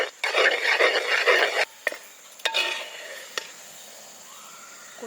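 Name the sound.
stirring guava halwa with ghee in a pan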